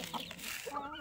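A Wyandotte hen out with her chicks in the evening gives a couple of short, close clucks in one brief burst.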